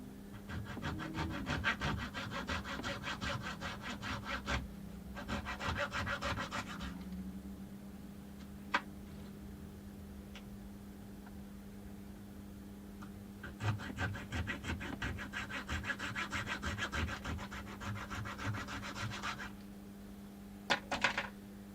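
A hacksaw cuts on a model railroad workbench in two long runs of quick, even back-and-forth strokes, close and moderately loud, with a few scattered knocks between and after.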